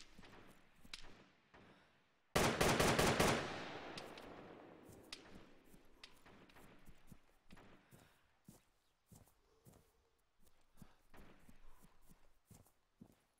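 Gunfire in a military video game, opening with scattered sharp cracks before a loud burst of rapid shots with a trailing echo, then sporadic single reports and thuds, some near and some distant.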